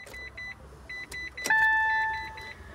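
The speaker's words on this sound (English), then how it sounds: "now what I'm doing is I'm turning the car on." A hybrid electric car with a CHAdeMO charging port is switched on indoors, giving a short series of soft electronic ticks followed by a clear two-tone chime that rings out and slowly fades.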